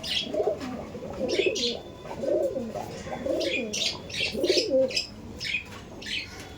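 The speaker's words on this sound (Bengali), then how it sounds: "দেখুন এটা হচ্ছে মেল পায়রা" Male Kaldom pigeons coo in a rhythmic series of low, throaty rolling calls close by, the phrases repeating about once a second, with some higher chirps and faint wing flutters mixed in, no talk.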